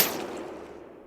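Gooey light attack from a video game weapon imbued with the Rot element: one sharp, close impact burst that quickly decays into a wet, smeared tail lasting about a second, with no voices.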